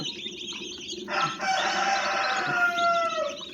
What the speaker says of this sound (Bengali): এই দেখুন অরিজিনাল টাইগার মুরগির বাচ্চা